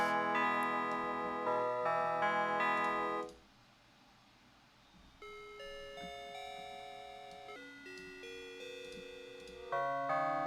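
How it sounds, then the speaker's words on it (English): Synthesized bell tones from Ableton's Operator synth ring in clean, sustained notes, stepping through a short melodic pattern, with a brief quieter stretch before the bright tones return. "Now let's mix it with those bells."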